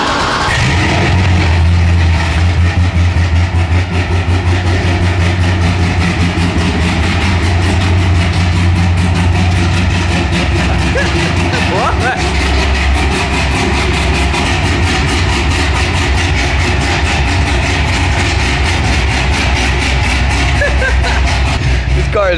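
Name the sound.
loud cammed Corvette Z06 engine idling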